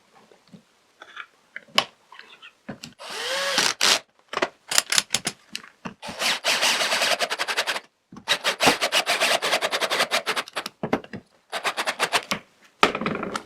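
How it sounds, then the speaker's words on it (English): Screws driven into plywood with a power driver, several bursts of rapid ratcheting whir separated by brief pauses, close and fairly loud in a quiet workshop. "I'll put a couple of screws in the holes I prepared earlier"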